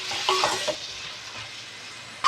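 Green chillies and masala sizzle steadily in a pan while a spoon stirs and scrapes through them for kaju mushroom pulao, with louder clattering strokes near the start and a sharp clink at the end.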